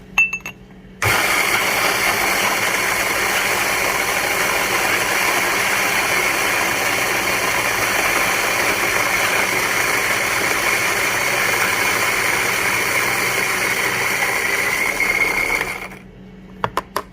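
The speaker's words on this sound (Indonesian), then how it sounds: "Sekarang kita giling ya. Gilingannya coarse." A Timemore manual hand grinder crushing coffee beans at a coarse setting gives a steady, continuous gritty churning that runs unbroken for about fifteen seconds, close and fairly loud, then stops abruptly, with no talking over it.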